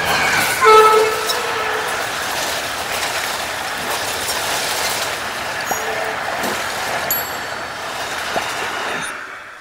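A superfast express train from Mumbai CSMT to Mangaluru Junction runs through Murudeshwar railway station, a loud, steady rumble and clatter of wagons with a short horn toot near the start.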